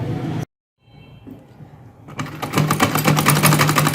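A sewing machine stitches the cuff fabric of a salwar with a cutwork design. After a brief silence the motor winds up and runs loud and close in a fast, steady stitching burst.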